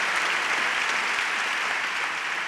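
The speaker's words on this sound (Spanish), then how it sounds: "un aplaudiment per aquesta salut de ferro" Audience applause at the SuperArte 2021 gala in Barcelona, a dense, steady wash of clapping from a sizeable crowd that stays even and full for the whole stretch, with no voices rising above it.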